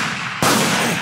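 A single rifle shot at a 1,000-yard pair-fire match, from a .300 WSM or 7mm PRC, cracks sharply after a brief quiet lead-in and leaves a loud, rumbling tail.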